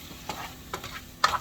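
Three scraping strokes of a spoon through sloppy joe meat mixture in a pan ride over a soft sizzle, evenly spaced and close by, with no talking.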